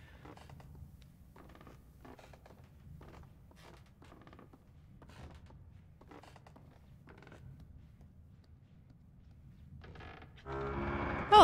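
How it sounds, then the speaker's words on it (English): Floorboards creak faintly and repeatedly in the video game Little Nightmares, a series of slow, irregular groans spaced across a quiet scene, ending in a sudden louder burst of noise. "Creaking the boards."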